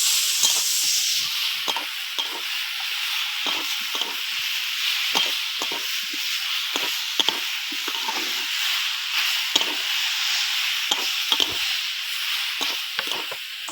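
Amaranth-type sour greens (amrul shak) and shrimp, with potato and eggplant, sizzling in a pan during a light sauté, a steady hiss broken by regular stirring scrapes, close and continuous with no talking.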